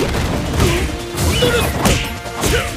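Rapid punches and heavy impact hits land in a Super Street Fighter IV Arcade Edition match between T-Hawk and Dudley, with loud crashing thwacks repeating every second or so over constant game noise.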